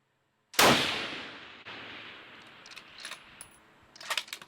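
A single 6.5 Creedmoor rifle shot fired at a 700-yard target outdoors, a sharp loud crack with a long decaying tail of echo, followed by faint clicks and rustling.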